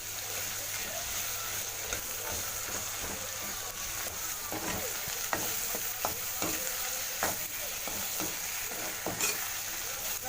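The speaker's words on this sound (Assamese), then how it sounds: "ভাজি লৈছোঁ।" Tomatoes and onions fry in a pan, a low continuous sizzle broken by repeated scraping and stirring clicks from a utensil, fairly quiet and close, with no voices.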